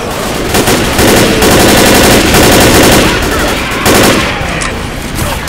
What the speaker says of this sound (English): That was a hunting rifle